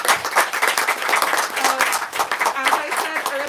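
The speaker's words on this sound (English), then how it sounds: "everyone let's give a huge round of applause" Crowd applause, a dense steady wash of many hands clapping at once, filling the whole stretch without pause.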